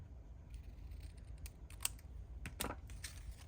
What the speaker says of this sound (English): just letting my scissors kind of be my guide to the edge of the sticker.